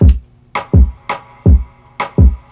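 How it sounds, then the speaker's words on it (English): Short hollow percussive knocks from a reverb-treated reggaeton snare with a wood-block character, struck in a steady groove about twice per second, each with a brief reverberant tail. "Now the snare percussion by itself sound like this."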